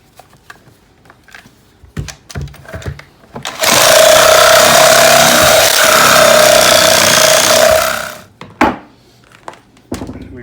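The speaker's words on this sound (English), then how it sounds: "We've gotten that cut through most of the way with the sawzall." A sawzall reciprocating saw cuts through a wooden rim joist, a loud steady buzzing burst lasting about four seconds between quieter knocks and handling sounds.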